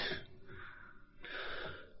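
Two close, raspy coughs from a man with a two-month chronic cough, about a second apart, with quiet breathing in between.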